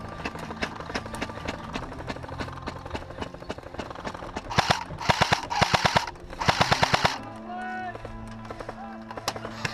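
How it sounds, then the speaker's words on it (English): Airsoft guns fire in rapid bursts during an airsoft game at Area 48, sharp clattering volleys mixed with players shouting to each other around the field. "He's shooting through the crate."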